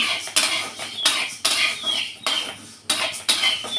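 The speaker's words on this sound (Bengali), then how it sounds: "সুন্দর ছড়ছড় করে আজ ছুটছে মানে গমটা ভাজা হয়ে আসছে" Wheat grains roast in a pan, giving a crackle with repeated rough scraping sweeps as they are stirred, in an even rhythm of about two strokes a second.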